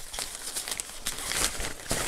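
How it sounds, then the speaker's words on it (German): Plastic bag crinkling close by while unboxing a ZAMAT NekGenic cervical traction neck pillow, a run of quiet, irregular rustles and crackles with no talking. "Oh, wir haben auf jeden Fall eine Tüte mit bei."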